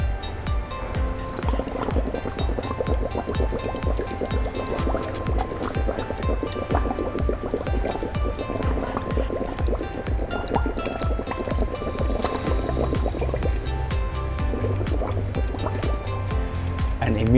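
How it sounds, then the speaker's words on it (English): Steady bubbling and gurgling as a person breathes out through water, a continuous wet burble of small bursts close to the microphone. "What if I breathe into the water"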